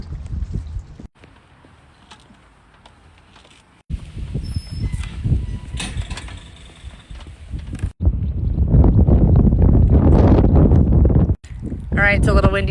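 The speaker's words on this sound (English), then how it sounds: "it's a little windy today" Gusty wind buffets the microphone on open water during a crabbing outing from a boat, a rough, fluctuating rush that swells louder toward the end, with brief lulls and some talking mixed in.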